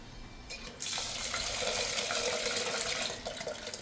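Tap water runs steadily into a kitchen sink while moong dal is washed and set to soak, a close, continuous splashing stream that swells after the first second and eases slightly near the end.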